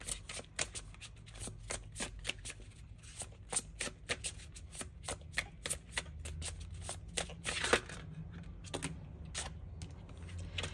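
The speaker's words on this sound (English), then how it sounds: "I will grab you out a Celtic Spirit Oracle card now for the collective." Celtic Spirit Oracle cards are shuffled close up, a rapid run of crisp riffling slaps and flicks repeating in irregular bursts, quiet and alone.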